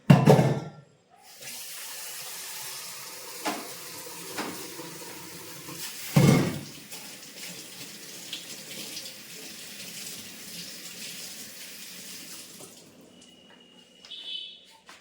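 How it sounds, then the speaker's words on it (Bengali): A kitchen tap runs water into a sink to cool freshly boiled eggs. The flow is steady and close for about twelve seconds, with a couple of clunks at the start and middle, then it stops. "ডিমটাও সেদ্ধ হয়ে গেছে বাবা একটু জল দিয়ে ঠান্ডা করতে দিই"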